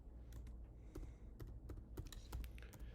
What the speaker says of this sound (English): I go to type in ginger cookies